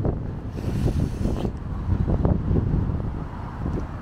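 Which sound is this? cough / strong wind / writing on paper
strong wind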